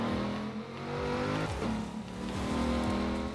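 A car engine in a racing game drives a school bus, droning steadily with rising and falling revs and a quick shift, loud and close, with no talk.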